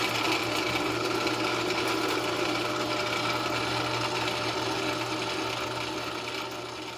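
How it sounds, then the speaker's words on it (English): A steady, continuous drill whine grinds through wooden blocks for several seconds, easing off slightly toward the end. "Now we're just going to drill our holes."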